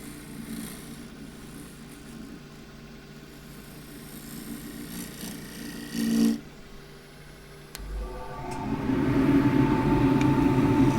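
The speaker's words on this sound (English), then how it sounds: "Shear scraping, just all the dust coming off the lower portion of the edge." A woodturning tool shear scraping wood on a lathe, a soft, continuous rasping hiss over the low hum of the spinning lathe, growing louder and rougher toward the end.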